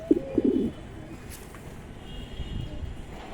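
A pair of military pigeons gives a short burst of low throaty cooing right at the start, a few quick pulses close by, followed by quiet background noise.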